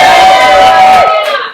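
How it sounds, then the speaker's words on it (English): A live improv show audience lets out a loud, sustained shout and cheer for a performer, a dense wash of voices that swells briefly and then fades. "can we get a big shout for Daniela?"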